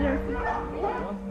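A dog named Chivas gives short high yips and whimpers, close by and fairly faint, over a steady low hum.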